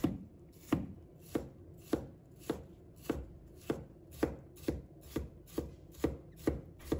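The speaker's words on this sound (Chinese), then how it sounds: "然后切成小粒" Knife chopping bitter melon strips into small dice on a board, a steady series of about fifteen crisp close thuds at an even rhythm, alone and fairly quiet.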